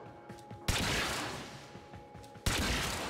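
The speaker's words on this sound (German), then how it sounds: "Und die fangen schon wieder an zu schießen hier." Enemy gunfire in the Warframe video game during a Void mission, with two sudden loud bursts of rapid shots that each sustain a dense, harsh roar after a quieter stretch.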